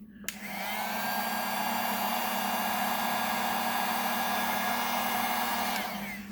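A heat gun switches on and blows a steady, loud rush of hot air for several seconds, then cuts off abruptly.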